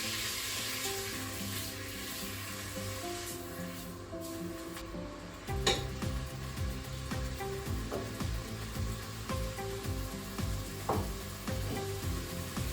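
Garlic sizzles steadily in olive oil in a pan, a continuous frying hiss with occasional pops and stirring scrapes, heard close over a faint tonal background.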